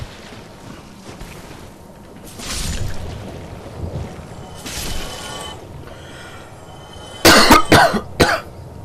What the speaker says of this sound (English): Sorry about the coughs today.